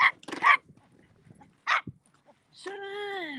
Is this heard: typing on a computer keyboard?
no